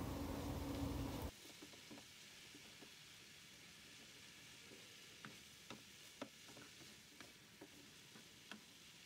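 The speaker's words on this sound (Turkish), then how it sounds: "kabakları ekliyorum ve birlikte kavurma işlemine devam ediyorum" Zucchini and minced meat sizzle loudly in a pan for a moment, then the frying drops to a quiet, steady hiss broken by scattered scraping stirs.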